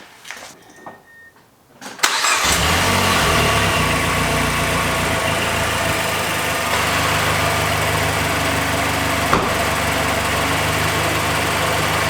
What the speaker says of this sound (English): Okay, and then we'll turn the car back on.